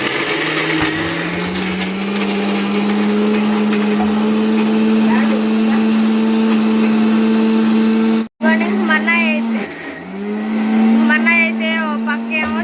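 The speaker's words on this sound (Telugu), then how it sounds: "మిక్సీ పడుతున్నాడు" A mixer grinder whirs loudly and steadily at close range, briefly stopping, then restarting as a voice talks over it.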